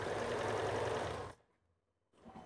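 A sewing machine stitches the hook strip of a blouse with loud, fast, continuous whirring that runs for over a second, then stops. A brief quiet follows before a faint restart at the end.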